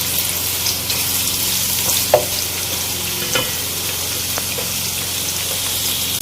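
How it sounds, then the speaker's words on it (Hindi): Finely chopped onions frying in a pan, a constant hissing sizzle with a few soft knocks and scrapes of stirring, close and without talk. "इस प्याज को हम यहाँ पे फ्राई करेंगे। इतना फ्राई करना है कि हमारी प्याज का कच्चापन बिल्कुल ख़त्म हो जाए।"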